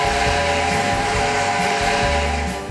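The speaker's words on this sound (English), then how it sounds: "The whistle audio is a Southern Pacific Desert 5 chime." A Southern Pacific Desert 5-chime steam whistle from a locomotive in the Trainz 2 railroad simulator game, sounding one long sustained chord over steady hiss, loud and close for nearly three seconds.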